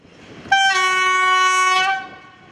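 A passenger train from Wrocław to Jelenia Góra passes through the station at Jaworzyna Śląska, sounding a loud, steady multi-tone horn blast for over a second before it fades.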